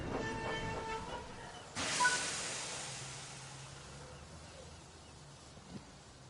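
A train shunting back into a siding in the Train Sim World 5 game, a low rumbling roll with a sharp burst of hiss from the brakes or air, fading into a quieter steady drone.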